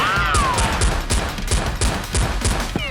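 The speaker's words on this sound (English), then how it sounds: "firing wildly at the SWAT officer." Rapid, loud bursts of gunfire from a henchman shooting wildly during a staged Nerf-gun action skit against a SWAT officer, with sharp shots repeating steadily across the whole stretch.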